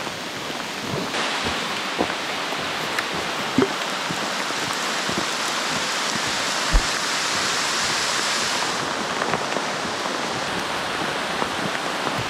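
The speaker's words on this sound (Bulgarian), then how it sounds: "Много силно вали." Heavy rain pours down in a dense, constant hiss on a mountain hiking trail in Bulgaria, with occasional louder drops spattering close by.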